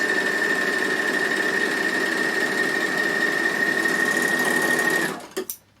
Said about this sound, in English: So I'm just going to go down my raw edges this time, put my foot down and just sew down here.